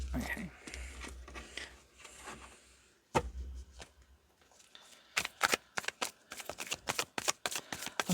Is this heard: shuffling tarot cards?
yes